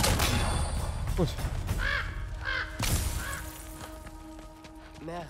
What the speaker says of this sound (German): Mehr Raben.